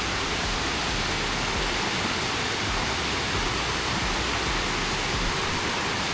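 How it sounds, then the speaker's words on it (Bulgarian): A small waterfall at Krushuna Falls in Bulgaria gives a steady, loud broadband rush of falling water that holds even throughout without a break, with no voices over it. "Ето още едно водопадче."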